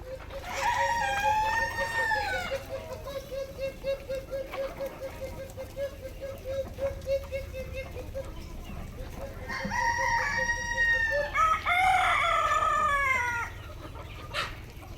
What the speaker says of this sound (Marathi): सगळ्या कोंबड्या बाहेर आहेत, काही आतमध्ये काही बाहेर आहेत.